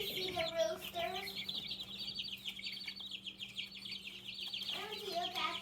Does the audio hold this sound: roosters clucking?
yes